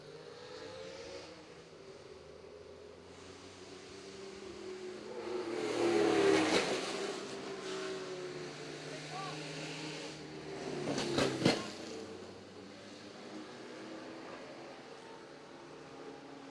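A Porsche race car engine hums at a distance during a vintage Grand Prix race, rising to a louder pass about midway and again near the end, with no talk over it.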